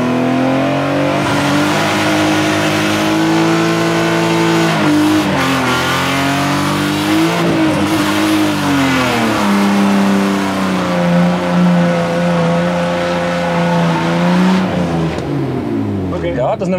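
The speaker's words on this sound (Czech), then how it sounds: "Ne, my děláme burnout." A car engine revs up for a burnout and holds at high revs, its pitch rising and falling repeatedly, with people talking over the loud, steady roar.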